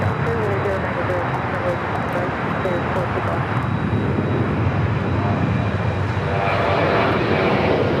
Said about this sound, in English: This is American Airlines 1437 taking off to Indianapolis on the 737-800.